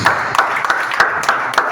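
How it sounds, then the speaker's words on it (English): An audience at a one-day Imo State primary health care development event applauds. The clapping is dense and steady, with a few louder bursts across the short stretch, and there is no clear talk. "So it's an applause."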